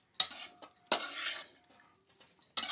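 Grated raw mango and cooked rice being mixed by hand on a plate, giving a few soft, close scraping and clinking bursts with quiet gaps between them.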